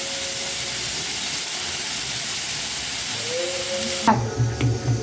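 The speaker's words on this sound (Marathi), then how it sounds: "एकदम बारीक चिरून घेतलेली कांदा कांदा आहे आपला छान परतून घ्यायचे तेलात" Finely chopped onion sautéing in hot oil for a soybean curry, a steady sizzling hiss that turns into louder bursts of frying and stirring near the end.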